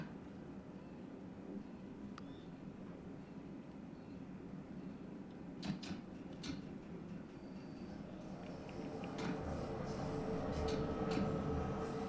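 London Underground Bakerloo Line train in the Train Sim World 2 game, a steady rolling rumble that swells louder toward the end, with occasional brief clicks and squeals.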